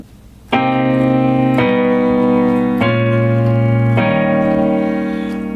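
Slow piano chords from an R&B song, four sustained chords struck one after another about a second apart and left ringing, played alone and fairly loud.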